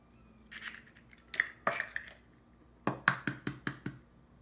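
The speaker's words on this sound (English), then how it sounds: "you want to crack your egg on the flat surface so that the shell would not be in the bowl" Eggs cracked one after another on a flat surface, giving sharp close knocks: a few scattered taps early, then a quick run of about six crisp raps near the end.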